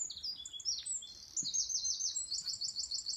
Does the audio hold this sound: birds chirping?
yes